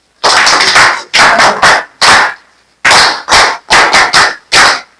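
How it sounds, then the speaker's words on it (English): A classroom of students claps together in a loud, close rhythmic pattern: quick groups of sharp, unison claps separated by short pauses, repeated several times. "Clap for me."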